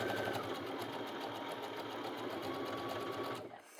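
A sewing machine runs fast and steady, stitching fabric to gather it, its rapid mechanical clatter close and continuous before stopping abruptly at the end.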